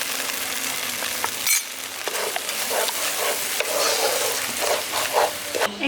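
Spice paste with cashew paste and a splash of water frying in a pan for an okra curry: a steady close sizzle broken by repeated scraping stirs of a spatula against the pan.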